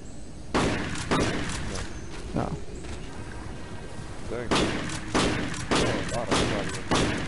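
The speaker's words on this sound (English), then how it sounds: "Can you hear me shooting on your headset?" Gunfire from a glitchy dinosaur racing video game: repeated loud bursts of shots in clusters, heard over a busy game soundscape with speech-like voices.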